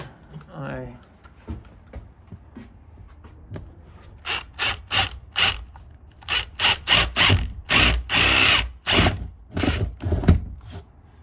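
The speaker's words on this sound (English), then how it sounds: "as you can see, the drill goes right through" A power drill whirs in a series of short, loud bursts, drilling through a hollow wall for wall anchors, starting and stopping repeatedly, with some talking before the drilling begins.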